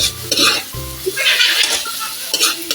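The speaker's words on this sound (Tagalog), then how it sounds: "Gigisa natin ng maayos yung kamatis" Tomatoes sautéing in a pan for sarciado, loud close sizzling with repeated scraping strokes of a spatula stirring and a few metallic clinks against the pan.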